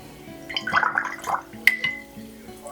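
A watercolor paintbrush swished and rinsed in a water jar during a river landscape painting, giving brief close splashy sloshing and a few light taps and drips, no talking.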